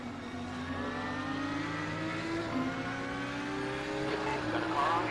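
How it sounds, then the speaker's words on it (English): A Lamborghini GT3 racer in an Assetto Corsa Competizione race drones steadily close up, its engine pitch climbing through the gears with faint whine, under a soft voice. "I believe I have a sound mod for my Lambo, too. That sounds really wicked."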